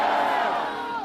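A large crowd roars and shouts in unison in support of Hamas and Hezbollah, a loud, continuous mass of voices that fills the moment and eases slightly toward the end.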